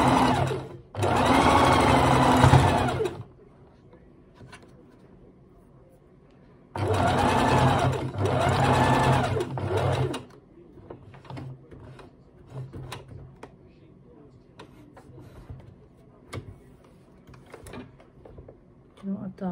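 A domestic sewing machine stitches duffle coat fabric in two loud, close bursts of rapid needle whirring, separated by quieter pauses with faint handling clicks and shuffling.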